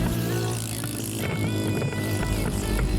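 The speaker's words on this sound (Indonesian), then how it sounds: "Kedengaran nih motor belakang suaranya kayak gitu." An electric motorcycle's rear hub motor strains while climbing the steep Cangar incline, giving a steady, loud whine with a low hum throughout, plus rattling and wind noise.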